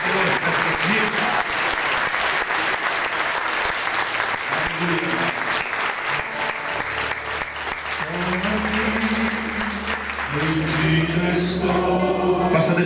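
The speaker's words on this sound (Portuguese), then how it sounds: "Vamos aplaudir Jesus por isso." A church congregation applauds in dense, steady clapping that fills the space, with singing voices and music rising underneath in the second half.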